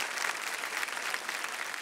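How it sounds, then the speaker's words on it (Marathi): A crowd clapping steadily and fairly loudly, a dense continuous patter of many hands without pause. "एकदा जोरदार टाळ्या झाल्या पाहिजेत आपल्या कीर्तन सोहळ्यासाठी"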